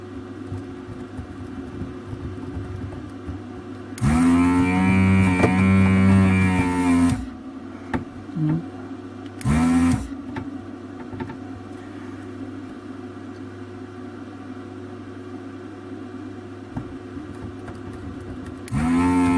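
A desoldering station's vacuum pump sucks molten solder from DRAM chip pins, heard as two bursts of loud motor hum (a longer one, then a short one) rising over a steady low bench hum, with no talking.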